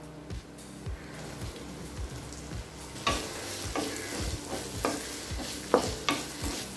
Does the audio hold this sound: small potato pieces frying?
yes